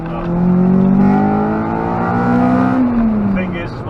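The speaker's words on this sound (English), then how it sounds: "rev the engine more like that, and get into the VTEC" A Honda Civic Type R EP3 engine revs up and holds high into VTEC, a rising then sustained harmonic whine that drops away near the end, loud and close.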